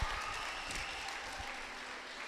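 Steady applause from a crowd, a dense patter of clapping that fills the whole moment at moderate distance, with no talking over it.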